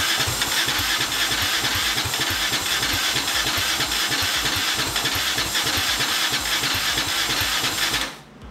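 A turbocharged EFI 660 lawnmower engine starts for the first time and runs with a loud, close, rapid rhythmic chugging for about eight seconds, then cuts out abruptly.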